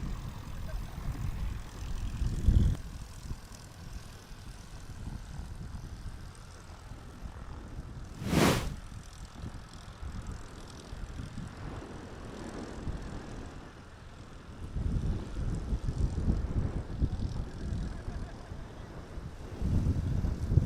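A STOL airplane landing in a crosswind at a short-takeoff-and-landing competition in Hartford, Wisconsin: steady propeller engine drone with wind rumble, swelling at times, plus one sharp brief burst partway through.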